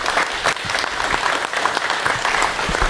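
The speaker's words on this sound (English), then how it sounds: "Would you please join me giving a big round of applause to Sgt Crawford this morning?" Audience applause for a county sheriff's sergeant, steady and sustained clapping from a crowd throughout, with no pauses.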